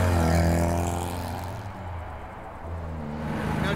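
A 1950 Alfa Romeo Disco Volante drives past, its engine giving a loud, close rumble that eases in the middle, then builds again.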